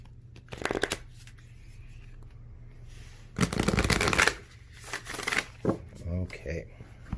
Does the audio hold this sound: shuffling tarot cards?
yes